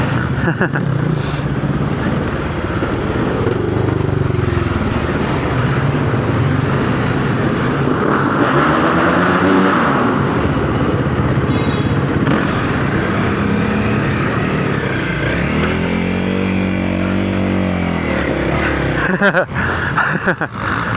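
Honda CRF250L motorcycle being ridden, its single-cylinder engine droning steadily and loud throughout, rising and falling in pitch with throttle changes, with wind noise and occasional speech over it.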